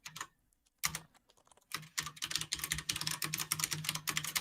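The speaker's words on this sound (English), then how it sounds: "So your keyboard is kind of loud again, James." A computer keyboard is typed on loudly and close by in rapid, irregular clacking bursts. Brief pauses separate the bursts, and no one speaks.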